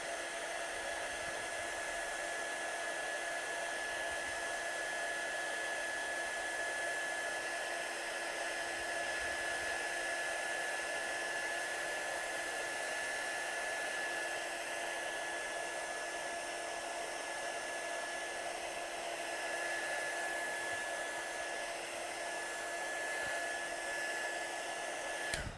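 A heat tool blows steadily and loudly for the whole stretch with an even, unbroken hiss as it dries watercolour paint on a stenciled piece, and no one talks.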